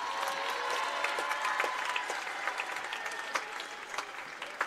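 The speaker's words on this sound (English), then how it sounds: "Let's have a round of applause for Hannah Schaefer" Crowd in a high school gym claps for a senior honored at a boys basketball game, a steady, moderately distant round of applause with scattered sharper claps, fading slightly toward the end.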